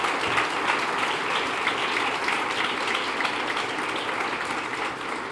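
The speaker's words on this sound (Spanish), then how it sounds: "Ese aplauso" Steady, dense applause from a church congregation fills the space evenly, with no voices rising above it.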